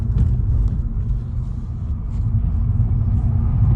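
A Skoda Fabia petrol with a DSG gearbox accelerates in sport mode, its engine a loud, steady low rumble heard from inside the cabin with no speech.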